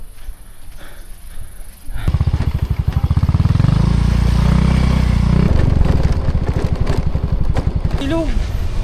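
A motorcycle engine starts up and idles close by, a loud, rapid, steady putter that runs for several seconds on a street.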